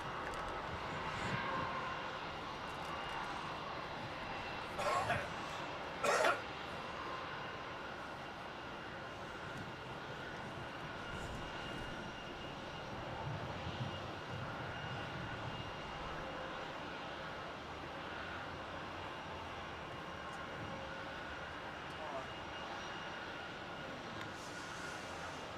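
Etihad Boeing 787 Dreamliner jet at Melbourne Airport, a steady broad engine roar holding at moderate distance throughout, with a couple of brief sharper bursts early on and no talk.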